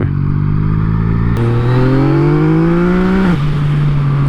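A Yamaha MT-09 motorcycle engine accelerates hard in second gear, a loud close-up rising engine note that climbs steadily, drops briefly at a shift, then holds a steady drone.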